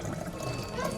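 Free water pours into a glass at a restaurant in Osaka, Japan, a steady close liquid trickle over a dense background of restaurant chatter and clatter.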